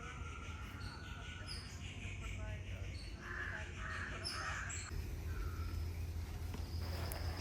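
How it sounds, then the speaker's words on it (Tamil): Several crows caw in short scattered calls outdoors beside a home vegetable garden with gourd vines on a trellis, fairly distant over a steady low background hum. "இது நம்ம காக்கை கூட்டம்."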